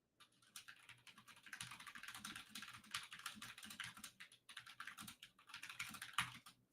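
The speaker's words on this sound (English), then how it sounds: "I hear you typing." Rapid clicking of keys on a computer keyboard, quiet and close, in uneven bursts with short pauses between runs of typing.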